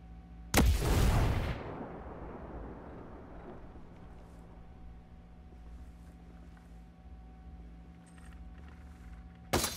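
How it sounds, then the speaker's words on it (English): A grenade blows up in Ghost Recon Breakpoint: a single sharp, loud blast whose debris and rumble fade over about a second, followed by a steady low hum and another abrupt hit at the end. "Get down, grenade."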